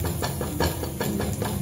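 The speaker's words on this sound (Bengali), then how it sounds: "এই দেখো পেঁয়াজ দিয়ে লঙ্কা দিয়ে একটু ভেজে নিচ্ছি, যাতে শাকটা একটু সুস্বাদু হয়।" Greens with onion and chilli frying in a hot pan, a close, loud, continuous hiss with rhythmic pulses of sizzle, as if tossed or stirred.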